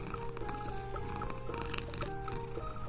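A cat purrs steadily up close, a continuous low rumbling hum with faint higher squeaks and rustles layered over it.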